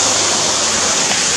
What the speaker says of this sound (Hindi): चलो पानी गिर रहा है